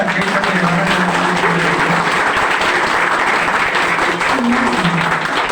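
A large audience at an Ayudha Pooja function claps steadily and densely, producing loud, sustained applause that fills the whole stretch without any pause.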